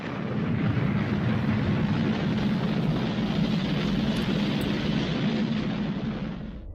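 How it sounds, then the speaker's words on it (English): A rocket blasts off in a loud, broad roar that rises quickly, holds at full power for several seconds, then starts to fade at the end. "After blastoff, I will explain the principles on which this rocket will reach outer space."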